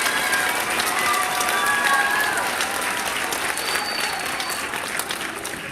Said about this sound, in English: Please give my 5th graders a big round of applause.